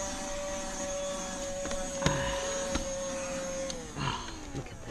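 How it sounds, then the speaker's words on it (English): A small battery-powered handheld vacuum running close by in a van, a steady whine with a constant tone, broken by a few knocks and bumps, before the motor pitch drops near the end. "here's my little vacuum."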